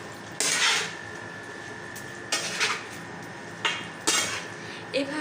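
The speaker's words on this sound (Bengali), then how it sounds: "ভালোভাবে নেড়ে নেব।" A utensil stirs chicken for biryani as it cooks without water in a pot, with four separate bursts of scraping against the metal spread over a few seconds and a quiet pause between each.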